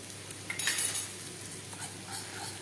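A spoon stirs chopped ginger in a pan with a faint sizzle, producing a few clinks and scraping strokes against the metal, fairly quiet and close, with no talking.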